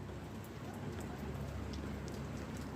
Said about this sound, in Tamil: பாருங்கள் மழை நல்லா பெய்யுது